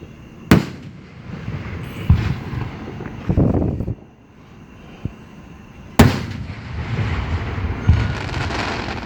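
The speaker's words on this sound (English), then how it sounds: "Whenever we seen the firework display up in New York" Fireworks at a 2019 display in Union City, Tennessee: loud sharp booms at about half a second and six seconds, with further thuds and crackling rumbles between and after, heard outdoors in wind.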